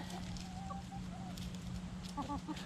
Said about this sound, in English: I'm always counting chickens.